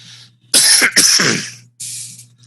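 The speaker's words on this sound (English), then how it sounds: "Pardon me, I got a cough." A few harsh coughs come close up in quick succession, followed by a short raspy throat-clearing breath.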